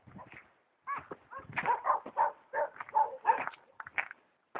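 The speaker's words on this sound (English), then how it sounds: "The dogs are singing back to me." Dogs on a Spanish mountainside howl and bark in a loose chorus, several animals carrying long wavering howls broken by short barks, fairly close and clear, with a brief pause near the start.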